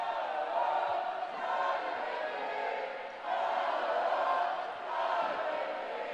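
University of Indianapolis Greyhound fans cheer at a college swim meet, a far-off crowd roar swelling and easing in waves within a reverberant natatorium.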